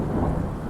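Thunderstorm with heavy rain, a loud low rumble of thunder rolling over dense, steady rainfall, close and continuous with no voices.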